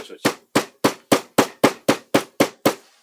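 About ten sharp, ringing hammer blows on metal during a mobile repair service job, struck alone in a steady, evenly spaced rhythm, each loud close impact decaying quickly.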